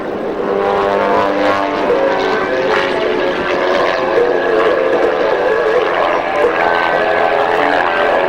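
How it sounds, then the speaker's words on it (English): Fitz S1S aerobatic stunt plane at an air race in Valleyfield, Tasmania, its engine screaming loud and steady as it tumbles through the sky, a continuous high-revving drone with shifting pitch and no voices. "you hear that engine screaming in protest as Chris levels the aircraft up"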